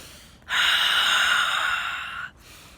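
A single long breath pushed out through the mouth, steady and breathy for nearly two seconds, close and clear against a quiet background.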